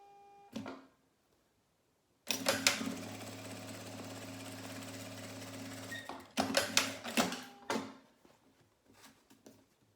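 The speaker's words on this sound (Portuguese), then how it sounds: "E vai entrar na máquina fazendo uma costura daqui do início até o final, uma costura reta." A sewing machine stitches one straight seam from start to end across fabric for a manicure and nail polish pouch, a loud steady motor hum of about four seconds after a brief start, then a few short bursts and clicks.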